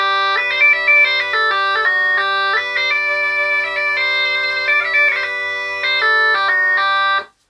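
German electronic bagpipes played dry without effects, a steady low drone under a bright, reedy melody of quick stepping notes, loud and continuous before stopping abruptly.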